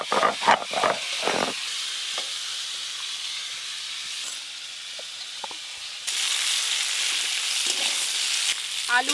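Potatoes and vegetable stems hitting hot oil in a pan, a loud bursting sizzle with a few sharp spatters at the start, settling into a steady hiss that rises again later in the clip.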